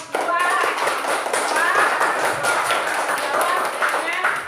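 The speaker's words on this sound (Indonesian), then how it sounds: "Tepuk tangan untuk kelompok 2." Classroom applause for a student group, a few scattered claps and taps mixed with lively children's voices and chatter, moderately loud and close, with the talking prominent throughout.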